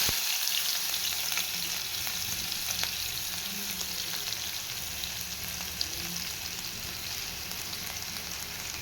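Spices frying in hot oil in a pan for a masala egg curry, a loud, steady, close-up sizzle and crackle that carries on unbroken throughout, with occasional light stirring and no talking.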